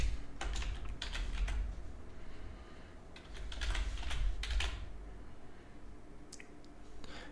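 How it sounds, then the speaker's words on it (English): Rapid typing on a computer keyboard, clusters of soft clicking keystrokes in uneven bursts with brief pauses, fairly quiet and close with no talking. "Oh, I typed in Brain Armstrong."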